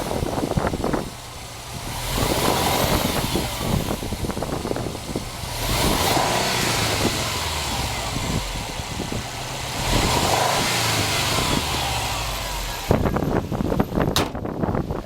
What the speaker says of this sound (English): this is the engine in action